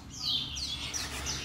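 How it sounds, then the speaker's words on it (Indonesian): A single white starling chick (jalak putih) gives a run of repeated high, thin chirps, fairly close and soft, with low background rumble underneath. "Ini ada satu ekor anakan jalak putih."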